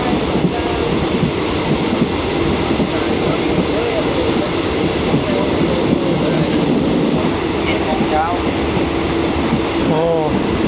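Steady rumble and rattle of an overnight train to Bangkok in Thailand, heard from inside a moving carriage, with continuous rolling noise, faint clicks and brief squeals, and a little background chatter.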